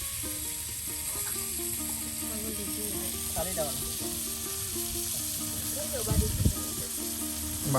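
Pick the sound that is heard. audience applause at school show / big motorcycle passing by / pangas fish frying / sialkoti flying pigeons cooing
pangas fish frying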